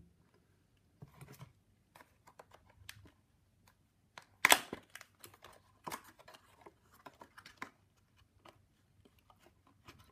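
Typing on a small Rapoo E6300 Bluetooth keyboard: sparse, quiet key clicks scattered irregularly, with one louder clack near the middle, close and alone in a quiet room.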